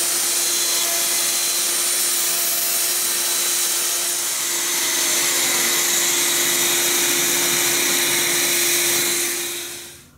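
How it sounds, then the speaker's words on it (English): A router steadily cuts wood on a half blind dovetail jig, a continuous loud whine with a steady pitch that winds down sharply at the end. "run the router back from left to right again to clean up the cut"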